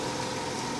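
A Mercedes W210 with about 300,000 miles idles steadily, a smooth continuous low engine hum with no voices over it.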